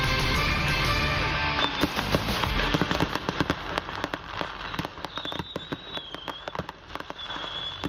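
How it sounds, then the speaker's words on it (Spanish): Explosions and crackling bursts come from a fire in containers outside a fireworks store in South Carolina, with dense, loud popping and rapid bangs over a roaring background. "se originó un incendio y explosiones en contenedores ubicados a las afueras de una tienda de fuegos artificiales"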